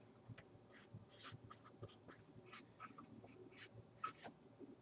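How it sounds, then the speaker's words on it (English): A pen scratches and taps across paper in short, irregular strokes, close and fairly quiet, with brief pauses between words being written and no speech. "I'll write that down here."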